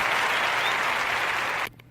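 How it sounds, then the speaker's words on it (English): A round of applause rings out as a steady, dense wash of many hands clapping, fairly distant and even, then cuts off abruptly. "I would like to give Amazon a round of applause"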